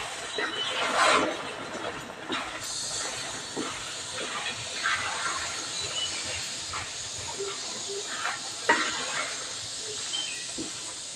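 Steady sizzling hiss of pavta (field beans) dropped into a hot oil tempering with chili powder, loud at first then settling into a continuous crackle with a few sharper pops.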